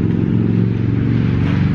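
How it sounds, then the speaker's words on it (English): Steady, loud low rumble of passing vehicles on the main road in Gettysburg, a continuous traffic drone with no talking over it. "Sorry about the traffic noise."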